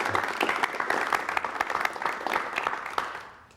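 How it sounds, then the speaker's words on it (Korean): Studio audience clapping to welcome a guest on a 1988 Korean television talk show, a close, lively burst of hand claps that gradually thins and trails off toward the end. "여러분 다시 한번 박수로 환영해 주시기 바랍니다"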